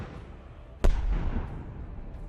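A kamikaze drone strikes a tank on a battlefield, producing one sharp, loud blast with a deep low rumble that rolls on for over a second before fading back into steady background noise.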